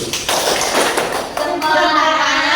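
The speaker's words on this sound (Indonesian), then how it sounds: "Kita kasih aplaus untuk Yuyun" A classroom claps for a student named Yuyun during a micro-teaching maths lesson: a short burst of scattered, tapping handclaps close by, mixed with voices talking over it.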